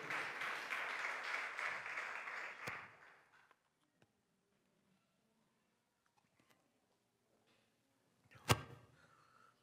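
A church congregation applauding together, a dense, loud burst of clapping for about three seconds that cuts off abruptly, followed by near silence with a few faint knocks and one sharp bang near the end.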